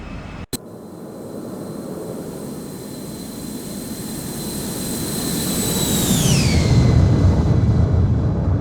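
An Embraer E175 jet passing in a flight simulator, a rising engine roar with a high turbine whine that swells as it nears and drops sharply in pitch as it goes by, loud and with no talking.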